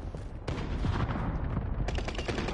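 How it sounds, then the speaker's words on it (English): Gunfire in a video game, apparently sniper fire: a dense, steady crackle of shots runs throughout with a sharp onset near the half-second mark, loud and continuous across the short span. "somebody's sniping at me"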